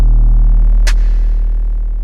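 The second snare in a layered hard-drum mix strikes once, a short, bright, noisy snap over a sustained, loud, deep 808 bass drone that slowly decays.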